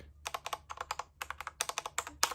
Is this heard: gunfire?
no